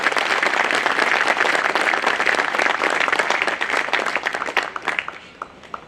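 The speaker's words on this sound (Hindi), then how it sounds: "आप सभी उन मेरे सभी साथियों के लिए, चेयरमैन साहब के लिए भी जोरदार तालियों से एक बार उनका स्वागत करें" Loud, dense applause fills a Bar Council of Delhi enrolment meeting hall in welcome for the chairman and colleagues, holding steady before tapering off into a few last claps.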